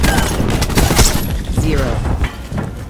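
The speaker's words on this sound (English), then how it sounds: "Cluster grenade." Cluster grenade going off in a shooter video game, a rapid burst of several sharp overlapping blasts and crackles within a few seconds, loud and close, mixed with game effects.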